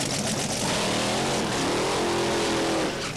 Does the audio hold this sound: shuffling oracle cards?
no